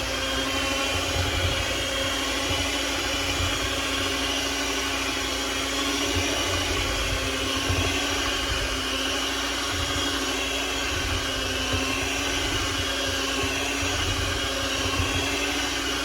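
Electric stand mixer churning whole wheat bread dough, a steady loud whirring motor hum that stays constant without pause, close up and alone.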